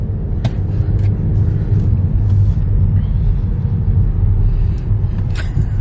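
Inside a new car being driven on the road, a heavy continuous low rumble of engine and tyres, steady and close, with faint scattered clicks and creaks from the cabin and no voices.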